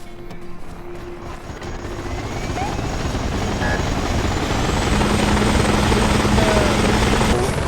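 A loud helicopter with a constant rotor thrum and engine whine, growing slightly louder over several seconds.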